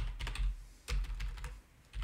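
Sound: computer keyboard typing

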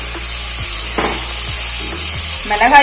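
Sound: spice masala sautéing with tomatoes in a pan for fish polichathu

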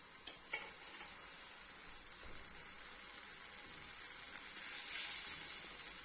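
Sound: butter melting and sizzling in pan

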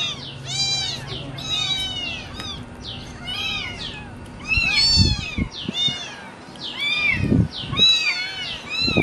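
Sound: kitten meowing

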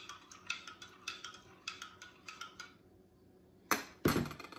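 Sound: stirring homemade hand sanitizer mixture in a bowl

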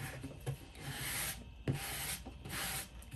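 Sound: sanding block rubbing playing cards

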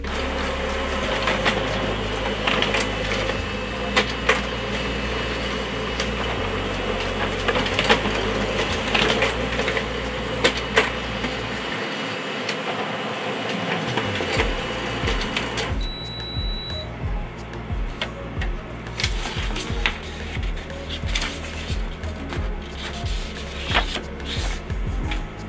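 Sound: Canon MF455dw laser printer doing a two-sided copy

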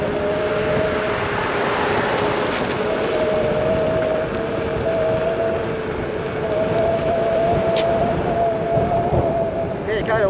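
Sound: wind blowing during electric unicycle ride

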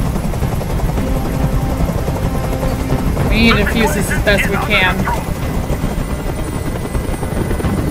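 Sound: helicopter hovering, from video game Detroit: Become Human

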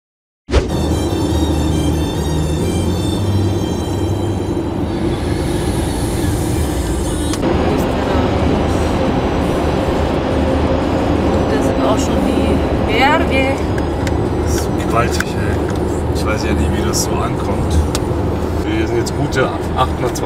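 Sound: vehicle driving on the road in Austria towards Graz

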